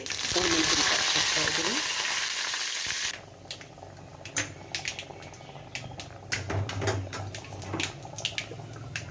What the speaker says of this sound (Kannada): ಎಣ್ಣೆ ಹಾಕಿದ್ದೀನಿ ಸಾಸಿವೆ ಹಾಕ್ತಾಯಿದ್ದೀನಿ